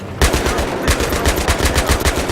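Rapid bursts of tank-mounted machine gun fire in the Battlefield 3 video game, loud, close and rhythmic, with dense repeating shots throughout.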